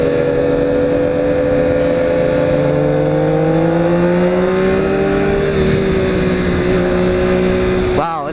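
A Triumph Speed Triple motorcycle engine pulls hard under acceleration, its loud, steady drone climbing in pitch over several seconds, heard close from the rider's position with wind noise.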